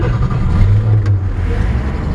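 A 1966 Ford F100 pickup truck engine, still cold on a chilly morning, running with a loud, close, low rumbling idle that rises briefly as it is revved.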